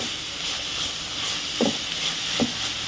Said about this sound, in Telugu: చక్కగా ఆయిల్లో ఫ్రై చేసుకుందాం